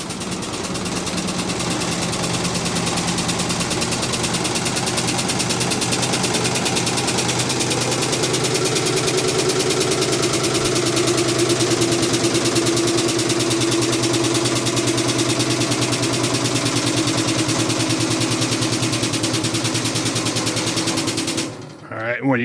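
Harbor Freight motorcycle lift converted to run on air, driven by a loud, continuous rattling pneumatic pump that drones steadily for about twenty seconds, shifts slightly in tone partway through, then cuts off abruptly.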